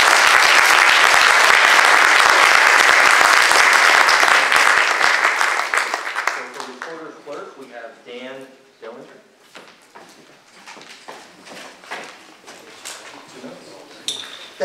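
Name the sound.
audience applause at candidates night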